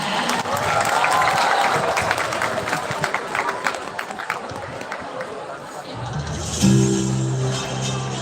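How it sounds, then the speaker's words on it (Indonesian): Crowd clapping at a youth talk show welcomes the moderator onto the stage, dense applause with chatter that thins out toward the end as a few voices and a sustained tone come through. "Beri tepuk tangan yang meriah."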